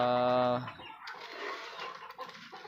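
Pet chickens cluck and call at feeding time, with a loud harmonic crow-like call at the start followed by softer scattered clucks and farmyard rustling.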